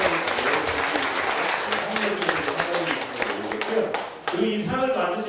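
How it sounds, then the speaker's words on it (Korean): Audience at an international conference on forced mobilization issues gives vigorous applause, dense crowd clapping for several seconds with murmured voices and talk beneath, ending as a voice comes in over the fading claps. "힘찬 박수 한번 보내주십시오"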